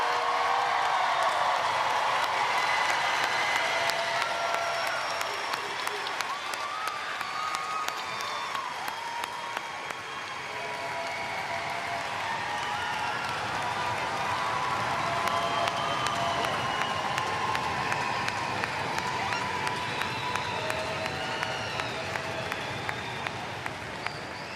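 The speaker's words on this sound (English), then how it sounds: "Can we have a loud round of applause for the class of 2025?" Steady, loud crowd applause with cheering and whoops for a graduating high school class at a commencement ceremony, a dense wash of clapping and voices that lasts throughout.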